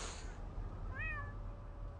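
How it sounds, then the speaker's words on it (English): A single short cat meow rises and falls near the middle, fairly clear against a low, steady background hum. "There's a kitty."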